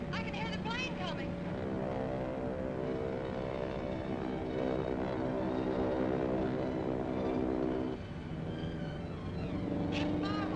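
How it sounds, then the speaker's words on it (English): A propeller airplane drones steadily with a layered engine hum that holds and then shifts lower near the end, while excited voices call out over it in a dramatic scene. "I can hear the plane coming!"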